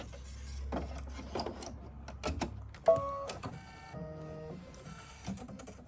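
An embroidery-style sewing machine stitches a Halloween bat jar topper with gray thread on top and in the bobbin, giving a faint, busy mechanical whirring with irregular clicks and tonal hums that start and stop with no talking.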